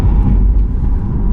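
An electric Audi RS e-tron GT accelerates hard on a canyon road, heard from inside as a loud, steady low rumble of road and drivetrain noise with no engine note.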